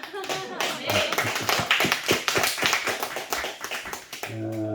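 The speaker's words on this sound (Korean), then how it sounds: "굉장히 활기차게 박수 치는 거" Congregation clapping energetically at a New Year's Eve worship service, a dense burst of rapid, loud hand claps with voices briefly heard at the start and end.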